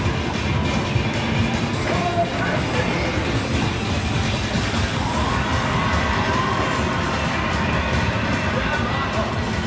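A crowd in an arcade cheers and shouts steadily around a Dance Dance Revolution machine, a dense, loud wall of voices with children's shouts and busy game-room noise underneath.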